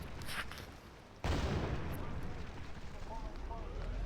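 A loud explosion bursts suddenly in a tank and helicopter shooting game, followed by a lingering rumbling roar with faint whistling, after a quieter stretch of game noise.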